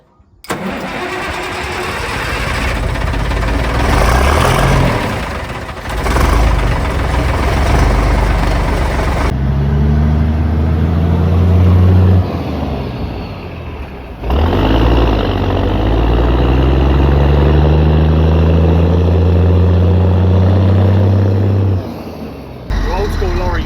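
A lorry fitted with a custom fabricated exhaust starts up and pulls away, its mid-pitched engine rumbling loud and close, with revs rising and falling through gear changes. A voice talks briefly over the engine.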